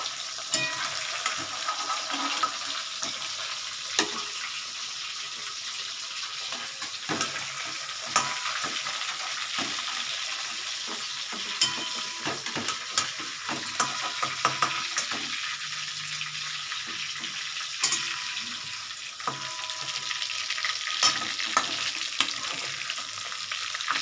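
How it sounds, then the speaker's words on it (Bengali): Fish fry in oil in a pan, giving a continuous close sizzle with frequent clicks and scrapes from a utensil turning the pieces. "মাছগুলো মোটামুটি ভাজা হয়ে গেছে আমার, আমি তুলে নিচ্ছি মাছগুলো"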